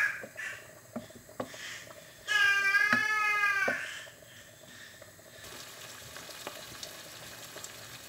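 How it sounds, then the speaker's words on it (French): Marinated liver fries in a generous amount of olive oil in a pan with a soft, steady sizzle, while a loud cat meow cuts across the middle. "Je commence la cuisson par le laisser frire."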